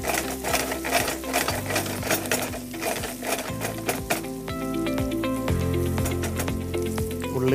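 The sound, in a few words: fried chicken added to wilted onions, sizzling in pan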